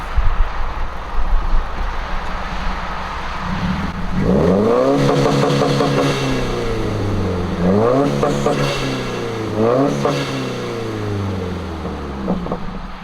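A 2015+ Subaru WRX running launch control holds its engine at 4200 rpm. It idles, then gives repeated loud rev bursts that climb and drop, each holding near a steady pitch, close and with no talking.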